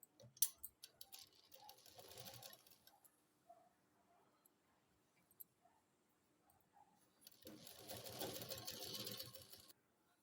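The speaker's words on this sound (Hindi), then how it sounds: "अब हम इसको यहाँ इस तरह से सिल देंगे।" Sewing machine stitching a child's kurti, running in two loud bursts at the start and end with quieter gaps and faint clicks of handling between; no talking.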